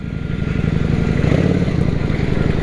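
A motorcycle rides off-road across a wet back property, its engine chugging in a steady throbbing rhythm close to the listener, loud and unbroken, with no talking.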